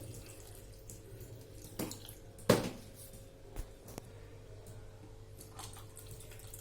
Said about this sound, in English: So I am putting it on the vessel and adding water.